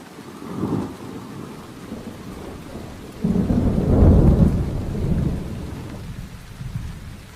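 Heavy rain falls steadily while thunder rumbles deep and low, swelling into a long, loud roll midway before easing back under the continuing downpour.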